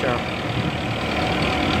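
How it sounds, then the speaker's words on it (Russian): A tractor engine rumbling while towing a cart, a steady low throbbing drone with broadband rattle, continuous and close, with a voice talking over it. "Вот тележка вполне себе едет, трактор урчит, мы дышим выхлопом"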